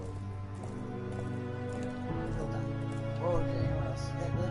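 Horses in the Game of Thrones video game: hooves clopping in an uneven rhythm under a steady hum and other game noises, with a brief snort or whinny near the end.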